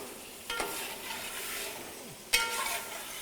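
Yogurt cooking with mutton and spices in a pan for Amritsari mutton curry, a soft steady sizzle with a couple of louder stirring scrapes against the pan.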